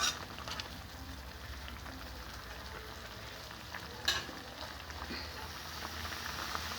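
Khoiya fish paturi frying in a pan, a steady low sizzle with soft stirring scrapes and one sharper clink partway through, close and fairly quiet.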